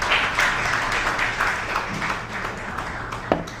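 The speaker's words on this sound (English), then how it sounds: "Let's give it up for him one more time." An audience applauds at an education package launch event, with steady clapping that fades gradually, plus a faint sharp knock near the end.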